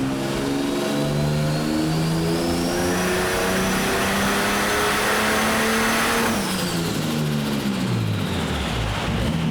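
A Ford AU Falcon engine revs hard on a dyno, rising steadily in pitch through a long pull, then dropping back as the throttle comes off, loud and close with a rising whine.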